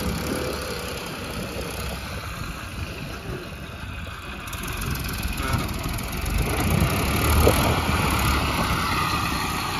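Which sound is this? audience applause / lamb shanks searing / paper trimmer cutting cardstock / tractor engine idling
tractor engine idling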